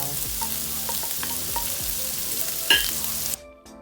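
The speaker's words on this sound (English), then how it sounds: "We are going to saute our vegetable." Vegetables sautéing in cooking oil in a pan for an omelette, with a steady bright sizzle and occasional stirring clinks, close, before the sizzle cuts out near the end.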